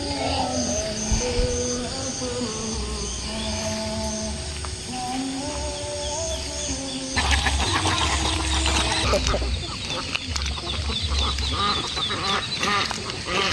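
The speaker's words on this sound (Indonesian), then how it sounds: "Tuh banyak bebek sama ayam yang lagi cari makan." Ducks and chickens foraging beside rice paddies in a rural area, with repeated duck quacks and bird calls over a busy, steady outdoor background, moderately near.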